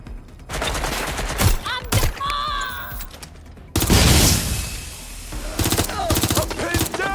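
Gunfire erupts in Watch Dogs: Legion: loud, rapid automatic bursts and fusillades come close and sharp, broken by brief pauses and a heavy blast, with a voice speaking between volleys.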